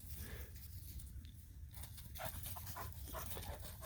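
Excited puppy panting steadily and close by, a littermate among sheep on a silvopasture farm, with some soft shuffling and rustle mixed in.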